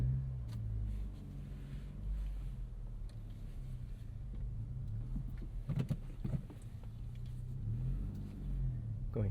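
A 2026 Acura Integra A-Spec with a turbocharged engine and six-speed manual pulls away, its steady low engine rumble continuing throughout with slight swells, heard from inside the cabin.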